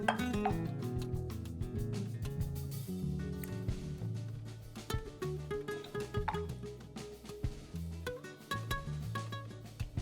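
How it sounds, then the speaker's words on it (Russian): A spoon clinks and scrapes against a bowl in quick, irregular strokes as water and condensed milk are stirred into a cake soak, quiet and close. "Все хорошо размешиваю до полного растворения сгущенки."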